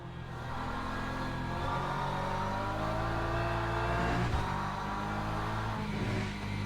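A Porsche race car engine in Le Mans Ultimate drones steadily and loud, its pitch climbing through the revs with a brief break around a gear change, then pulling on again with no voices over it.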